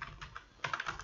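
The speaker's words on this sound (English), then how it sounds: "just typing" Typing on a computer keyboard, quick clusters of light key clicks, a few soft strokes followed by a denser, louder burst, close and alone without speech.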